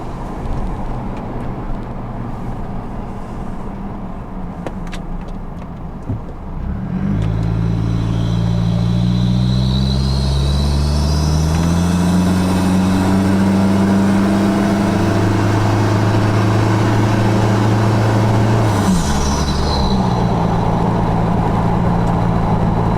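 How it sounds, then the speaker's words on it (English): A Holden Colorado with a 42mm turbo cruises and accelerates, its turbo intake induction noise rising and falling in pitch over a steady, loud engine drone, with a brief gear change midway and no talking. "I'll put the window down so you can hear this induction noise"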